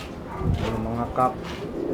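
Racing pigeons cooing in a loft in the Philippines, soft throaty coos rising and falling close by, overlapping in a continuous murmur.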